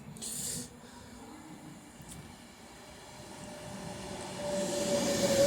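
Avanti West Coast Class 390 Pendolino electric train arriving at Stoke-on-Trent station on the West Coast Main Line, a steady low rumble building toward the end with a thin squeal rising over it, no talk.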